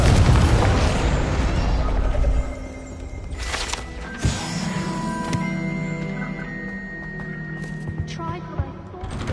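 A Confringo blasting spell goes off in Hogwarts Legacy with a heavy, loud explosive burst at the start, followed by a sharp crack, lingering magical tones and scattered pops, with a voice speaking over the action.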